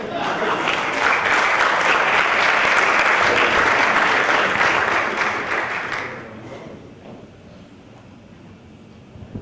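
An audience at a developer conference talk bursts into dense, loud applause that holds for about six seconds, then quickly fades to quiet room noise.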